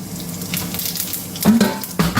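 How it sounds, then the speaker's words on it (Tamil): Cumin seeds crackle and sizzle in hot oil for a prawn fry, a close, steady frying hiss with a couple of louder bursts near the end. "எறா பரட்டலுக்கு வெறும் சீரகம் போடுறேன்"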